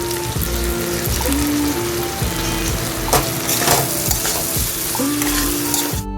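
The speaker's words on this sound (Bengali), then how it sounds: "এবার সবজি ভাজাগুলো সব দিয়ে দিচ্ছি এর মধ্যে, দিয়ে আবারও ভালো করে এটাকে মিশিয়ে নেব" Fried vegetables are stirred into cooked spice masala in a pan with a steady, close sizzle and repeated scraping strokes of a spatula, cooking alone without speech.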